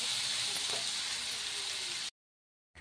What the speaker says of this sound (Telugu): దీన్ని ఇందులో వేసుకొని కొద్దిగా ఫ్రై చేసుకోవాలి.